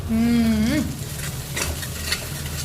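Tomato puree cooking down in oil in a pan for a spinach gravy curry; a short tonal whine opens, then a steady close hissing sizzle continues with a few soft crackles.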